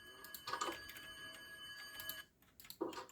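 A telephone rings in a survival video game, sounding as a faint electronic trill in two bursts separated by a short pause, with no talk over the rings.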